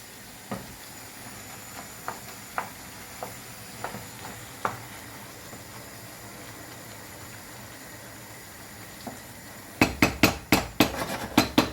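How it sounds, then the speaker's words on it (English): Food is stirred in a hot pan over heat while making a filling for a lasagna-style dish, with faint sizzling under scattered utensil taps, then a quick run of louder clanks near the end. "let's mix that in and see what it looks like"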